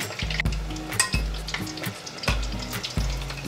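Battered food deep-fries in hot oil, a steady close sizzle and bubbling punctuated by occasional clinks and stirring knocks of a utensil against the pot.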